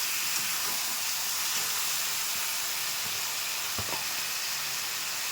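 Spice paste for a Bengali Morola fish curry fries in a hot pan, giving a loud, steady sizzling hiss with a few faint clinks and no talk.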